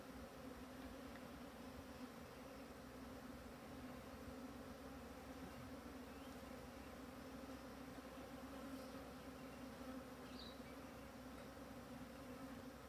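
Bees swarm around a horizontal hive in Australia, a steady, dense buzzing hum that holds at an even level throughout, close and continuous with no voices.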